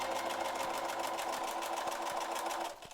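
A sewing machine stitches white fabric in a fast, even run of rapid mechanical clatter that stops abruptly just before the end, with no talking.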